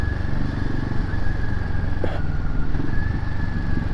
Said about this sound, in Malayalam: അപ്പോൾ എക്സോസ് നോട്ടും നല്ല രസമുണ്ട് കേൾക്കാൻ